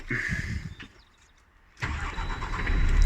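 A brand-new DAF truck's engine cranks and fires. A burst of noise drops into near silence, then the engine catches abruptly and settles into a loud, building idle.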